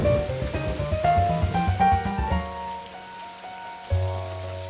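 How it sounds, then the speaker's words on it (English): Cartoon rain patters steadily on surfaces beneath a plucked, stepping musical score, and a low note sounds near the end. No speech is heard. "George didn't mind rain."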